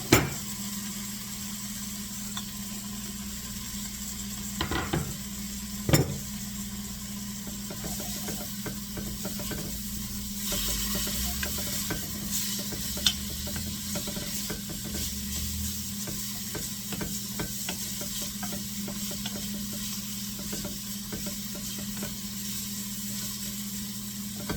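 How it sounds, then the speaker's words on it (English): Garlic stirred into leeks frying in a pan for salmon en cocotte, a soft continuous sizzle with occasional light scrapes and clicks of a utensil, close and moderately quiet without talking. "Okay, stir your garlic in."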